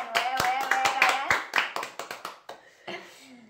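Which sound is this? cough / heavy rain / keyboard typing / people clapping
people clapping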